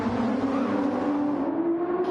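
A race car engine in a Cup Series race as the 24 car heads to pit road, droning loud and steady with a strong tonal whine that rises slightly toward the end.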